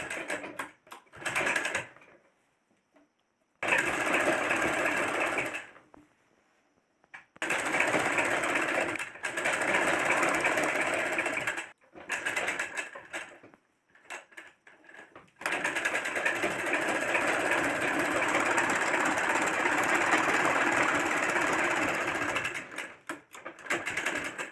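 A sewing machine stitches a salwar suit kurta in long, loud, close whirring runs, broken by several brief pauses and one longer stop before a final sustained run.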